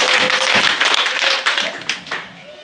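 A congregation claps and cheers at an evangelical church service, a dense, continuous burst of applause close by with some voices mixed in, swelling and fading over a few seconds.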